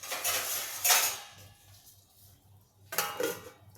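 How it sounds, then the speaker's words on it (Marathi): A metal lid is set onto a cooking pan on the stove, two clattering clanks of metal on metal with a quiet pause between them, near and distinct. "त्याच्यावर झाकण हे बसत नाही आहे दुसरं झाकण मी ठेवते"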